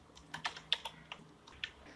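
Quick, uneven keystrokes on a computer keyboard while code for Matplotlib axis tick label formatting is typed, a burst of separate close clicks with small pauses and no voices.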